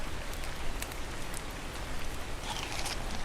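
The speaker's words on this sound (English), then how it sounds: "it sounds like it's raining" Steady rain in the video game Ark: Survival Ascended patters and hisses evenly throughout, a dense wash of drops with no voices, moderately loud and close.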